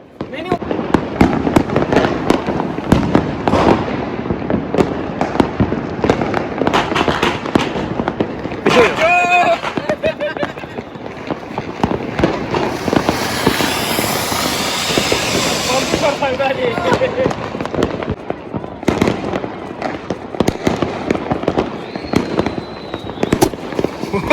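Diwali firecrackers pop and crackle in rapid, dense volleys for a long stretch, with a whistling hiss rising partway through and voices faintly mixed in.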